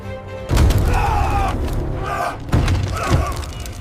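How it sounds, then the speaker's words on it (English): A violent explosion rocking a WWII B-25 bomber during a harbor strike, a documentary sound effect: deep, rumbling booms and thuds roll through the whole stretch, with heavy blasts hitting around the half-second and midway marks. "A violent explosion rocks the bomber on the left,"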